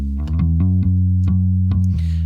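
Bass guitar run through an Ampeg SVT VR Classic amp plugin plays a steady run of punchy, growling low notes with clear picked attacks, loud and close.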